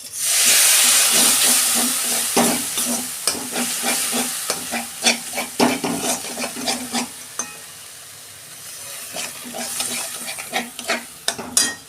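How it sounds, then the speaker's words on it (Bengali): A splash of water hits a frying bhola fish and brinjal curry with coriander powder, bursting into a loud hissing sizzle, then settling into stirring scrapes and crackle that fade and return, close by with no talk. "অল্প সামান্য জল দিয়ে দিচ্ছি"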